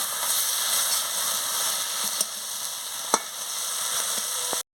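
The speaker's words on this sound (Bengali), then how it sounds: "বাটা দিয়ে দিচ্ছি, দিয়ে আমি ভালো করে কষিয়ে নিচ্ছি" Spice paste sizzles in a pan with Malabar spinach and shrimp, a steady close frying hiss with a few soft stirring knocks, then a sudden stop.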